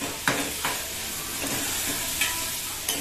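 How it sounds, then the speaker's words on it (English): Palak leaves, green chili and tomato frying for arbi fry, a steady close sizzle with several sharp clinks and scrapes of stirring spaced through it. "Once they are fried, add these palak ke patte and green chili and tomato."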